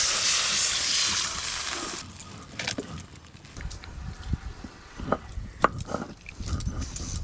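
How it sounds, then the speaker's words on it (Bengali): Water poured into a boiling tamarind sour broth for a bhetki fish-bone tok sets off a loud, steady hiss for about two seconds, then gives way to quieter bubbling and scattered kitchen clatter. "আর একটু জল লাগবে, জল দিয়ে দেবো।"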